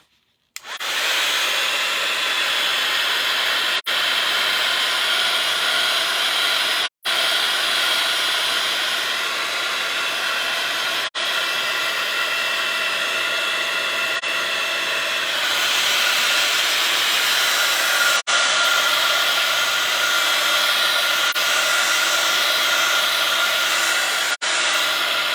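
A handheld heat tool blows a steady loud hiss across texture paste on an art journal page, running continuously for about twenty-five seconds with brief clicks and dropouts as it is moved.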